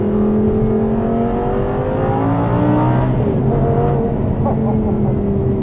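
Audi R8 GT with a 5-litre V10 accelerating hard, its engine note rising in a clear harmonic sweep through the gears, loud and close, with speech over it.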